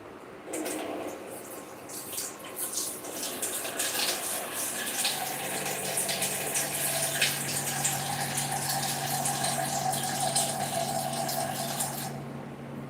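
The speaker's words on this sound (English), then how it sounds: "So I'm going to add water." Water pours steadily into a pot of rice being braised on the stove, a soft continuous gushing stream that lasts about twelve seconds.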